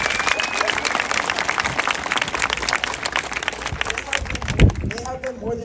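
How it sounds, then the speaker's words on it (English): An audience gives teachers a round of applause at a school gathering, a busy crowd clapping mixed with voices, cheering and movement noise, loud and close throughout. "So let's give them a round of applause."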